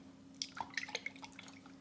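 Canned coconut milk is poured into a bowl for mochi, a quiet run of drips and small splashes that ends in a soft trickle.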